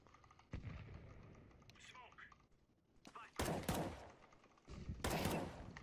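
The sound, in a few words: gunfire in the video game Counter-Strike 2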